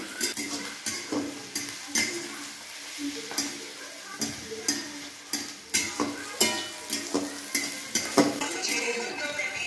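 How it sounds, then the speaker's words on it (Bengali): Onions being stirred as they fry in oil in a pan, with a steady sizzle broken by repeated scraping and clinking of a utensil against the pan, close by and without talk. "দেখো পেঁয়াজটা লাল লাল করে ভাজা হয়ে এসছে"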